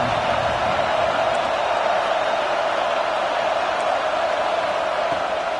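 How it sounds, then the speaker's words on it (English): Steady, dense stadium crowd roar from a college football video game, a continuous wash of noise at even loudness throughout. "This crowd ready to make its presence known."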